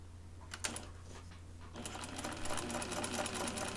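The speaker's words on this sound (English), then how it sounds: "And running 1 basting stitch right under the seam allowance" A sewing machine runs a basting stitch on a blouse: a few short bursts of rapid needle clatter, then a steady fast stitching run, close and clear.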